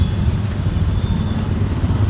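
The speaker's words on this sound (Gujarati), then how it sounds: "જો મિત્રો આ છે આપણો બોટાદનું સર્કલ સર્કલ એટલે અત્યારમાં અહીં તો બહુ ટ્રાફિક છે યાર" Road traffic rumbles at a busy Botad circle, with motorcycle and car engines blending into a loud, continuous low drone close by, broken by faint clatter.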